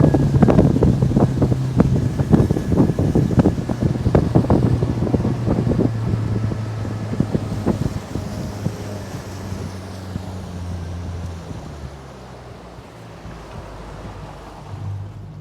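A 1975 GBC-hull motorboat with a Yamaha 70HP outboard drones steadily at about 33 mph over the rush of water and wind, loud and near at first, then easing into a lower, quieter hum.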